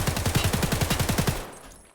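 SA-58 rifle firing full-auto in Escape from Tarkov: one sharp burst of about a dozen rapid, evenly spaced loud shots lasting over a second, then a short fading tail.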